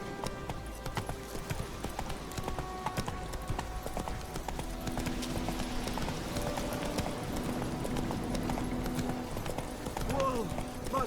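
Roach the horse gallops in The Witcher 3, a quick rhythmic clip-clop of hooves beating steadily over game ambience, with brief voices and a whinny-like sound near the end.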